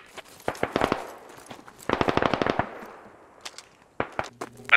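Sharp bursts of suppressive rifle fire in the military shooter Squad, two rapid volleys of distinct cracks separated by a quieter gap, followed by a few scattered shots near the end, fairly close and crisp.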